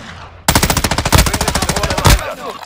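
Automatic weapon fire in Call of Duty: Modern Warfare 2 team deathmatch, likely an M13B rifle: a loud, rapid, evenly spaced burst of shots lasting well over a second, starting abruptly after a quieter lead-in.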